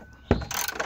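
A ratchet wrench loosens a 17 mm seat belt bolt in a Mercedes-Benz front seat, a sharp close click followed by a brief rapid ratcheting burst.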